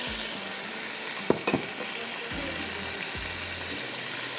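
Yakhni stock is poured into a hot pot for white biryani and sets off a steady hiss and sizzle, broken by a few brief clanks and stirring sounds, close and fairly quiet.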